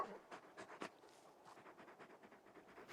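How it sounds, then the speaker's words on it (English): A large dog companion pants in the video game Final Fantasy 16, a soft rapid run of quick breaths, faint and close, with quiet game ambience behind. "You're just a big puppy, aren't you? A very big puppy."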